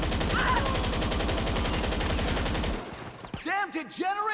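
Gunfire from a magazine dump in GTA 5 Online: a dense, rapid automatic burst that goes on loud and steady for nearly three seconds and then stops, leaving in-game whooshing sounds behind it.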